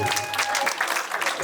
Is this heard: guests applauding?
yes